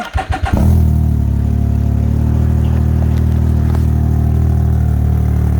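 A Can-Am Ryker engine on a new custom tune idles steadily and smoothly after a few quick revving bursts at the start, a low, even rumble held close by.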